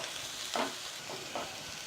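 Onions sauté with ginger garlic paste in a pan, a soft, faint sizzle running steadily with a few brief stirring scrapes.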